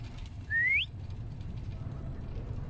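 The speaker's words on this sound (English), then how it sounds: "I'm gonna whistle." Player's single rising whistle in the horror video game Lazaret, a short clear tone lasting under half a second over a low background hum.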